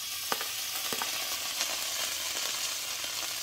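Tomato sauce goes into a pan of frying devilled shrimp. A steady close sizzle is broken by a few soft stirring clicks and scrapes, fairly quiet, with no voices.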